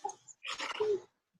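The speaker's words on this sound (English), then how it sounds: "that's my dog being so obnoxious" A dog makes a short burst of noisy barking or grumbling close by, in an indoor setting, with a brief whine at the end and a short quiet gap.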